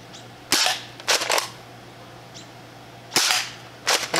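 A DartZone Nexus Pro X foam dart blaster fires at targets, giving sharp loud snapping shots in pairs and short bursts with quiet gaps between them, over a faint steady hum and with no voices.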